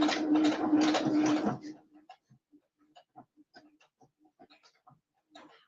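A sewing machine running a decorative fancy stitch, a fast steady mechanical whir with rhythmic needle pulses for about a second and a half, then stopping, followed by faint clicks and handling sounds.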